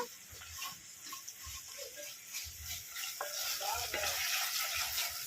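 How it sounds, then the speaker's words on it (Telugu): Ginger garlic paste fries in a pan over low heat with a soft, steady sizzle, joined by intermittent scraping and stirring strokes and light clinks of a spoon, close by with no talking. "కనీసం పది నిమిషాల పాటు ఇది ఆ స్టవ్ని సిమ్లో పెట్టుకుని ఫ్రై చేసుకోవాలి"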